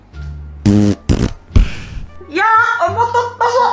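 A loud, close fart bursts out in two or three quick blasts, then a voice speaks right after.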